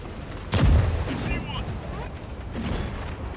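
A tank cannon fires once in a tank video game, a loud close boom with a deep rumbling tail, followed by quieter game noise and a few fainter distant bursts.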